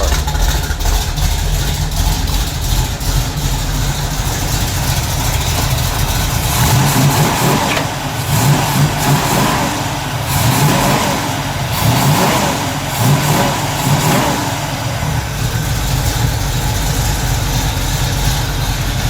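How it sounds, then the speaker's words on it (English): A Pontiac V8 with a factory Ram Air 4 camshaft runs loud and close, idling with a lumpy rumble and then revving repeatedly in sharp bursts before settling back. "This car has a Ram Air 4 factory camshaft. Optional engine in this car."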